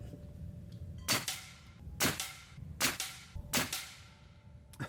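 A Crosman Magfire Extreme .22 air rifle with a CenterPoint 3-9x scope fires 15.89-grain JSB pellets: four sharp, loud cracks about a second apart, each trailing a brief ring, close up with no talking.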